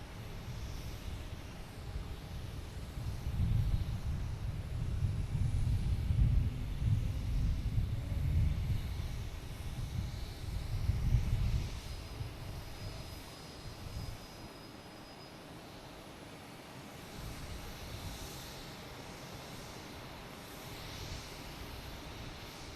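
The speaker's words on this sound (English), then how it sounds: "Next coming in is United Airlines coming in from Chicago" A United Airlines Airbus A321neo arriving from Chicago at Boston Logan, a low, rumbling jet-engine sound that swells in the first half and then fades into a quiet background hum, with light wind.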